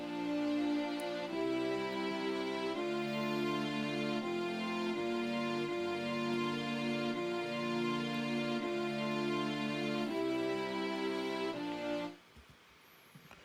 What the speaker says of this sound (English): I found this King's Cross sample from Logic under Studio Strings and then Section Instruments